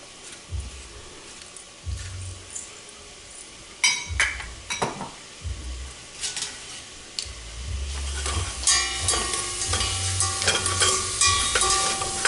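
Sliced zucchini, seasoned with salt and ground pepper, sautés in an already warm pan for a linguini with lemon sauce, sizzling steadily while a utensil stirs and scrapes with occasional clinks of pan and cutlery.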